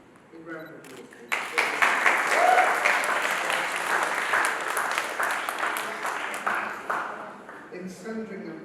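Brief room noise, then a crowd at a school prize day breaks into sustained clapping that carries on evenly before tapering off near the end.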